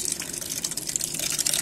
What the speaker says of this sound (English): Water will gradually come.